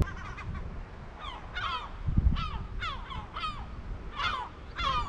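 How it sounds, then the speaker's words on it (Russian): Seagulls scream on a rooftop by a lake, with repeated harsh descending calls from several birds at varying distance and a brief low thump midway through. "Этих безумных чаек слышно вообще отовсюду. Даже досюда доносится их пронзительный мерзкий крик."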